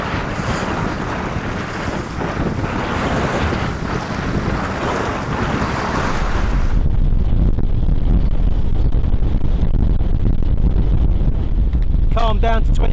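Loud, constant 40-knot wind roars and buffets the microphone on a boat at sea, with water rushing beneath; a brief voice breaks through near the end.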